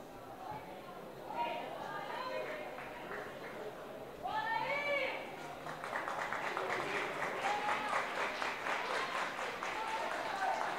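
A stadium crowd at a Brasileiro Feminino A1 2024 women's football match between Red Bull Bragantino and Palmeiras applauds as a substituted Bragantino player leaves the pitch. The clapping is distant and swells in the second half beneath a commentator's voice.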